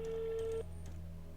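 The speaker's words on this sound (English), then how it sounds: "Come on, pick up the phone." A phone rings once through the earpiece during a call in a horror apartment video game: a steady tone held for about half a second, then it breaks off, leaving low hum and faint background noise.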